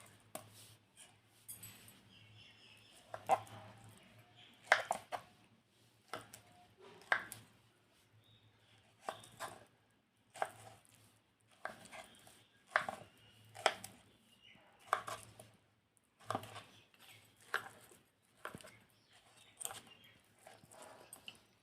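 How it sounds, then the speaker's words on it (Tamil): Peeled muskmelon is chopped into small pieces for juice, with a knife striking the board in a steady run of close, crisp taps and cuts, and no talking. "இப்போ இது சின்ன சின்னதாக கட் பண்ணி நம்ம ஜாரில் போட்டுக்கலாம்"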